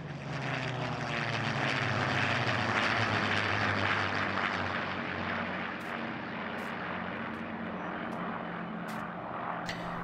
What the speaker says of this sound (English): the sound of three Merlin engines flying across the sky